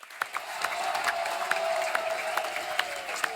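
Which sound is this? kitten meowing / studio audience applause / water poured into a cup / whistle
studio audience applause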